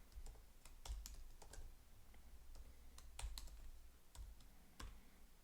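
Typing Arduino code on a computer keyboard, with irregular bursts of key clicks and occasional heavier strokes, close and fairly quiet, with no talking.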